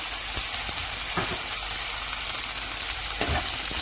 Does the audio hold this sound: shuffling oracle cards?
no